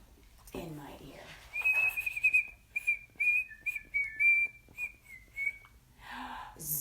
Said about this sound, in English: I hear a zookeeper whistling in my ear.